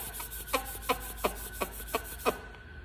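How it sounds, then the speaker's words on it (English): Palms of two hands rub together, producing a soft steady friction hiss punctuated by about six evenly spaced squeaky rubbing strokes, close and quiet. "I can like rub them together, and I can like make like a friction sound with them"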